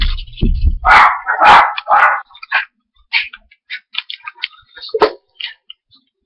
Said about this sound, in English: Oh, fucking dogs.